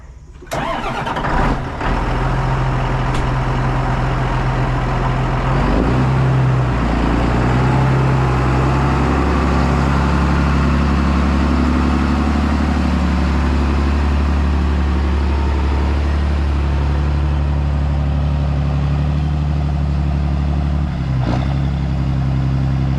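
A John Deere 8110 tractor diesel engine starting and then idling, a loud close steady rumble with a few clanks early on, running alone without speech.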